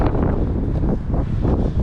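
Strong headwind roars and buffets against a microphone on an uphill bicycle climb into Pruszków, a steady low rumbling gust that fills the whole moment with no speech.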